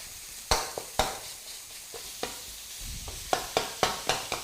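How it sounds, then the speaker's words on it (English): Pork mince stir-frying in a wok, with a gentle sizzle under a run of sharp spatula chops and scrapes against the metal, close up and without speech. "You can turn the wok down slightly once the mince has gone in, and then just start to sort of chop into it and separate it out."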